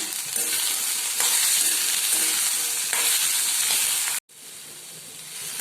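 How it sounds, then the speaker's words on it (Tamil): Chutney ingredients with tamarind sautéing in a hot pan, a loud continuous sizzle and hiss with stirring scrapes that cuts out abruptly near the end, leaving quieter background noise. "இப்போ சட்னிக்கு நல்லா வதக்கிட்டோம்."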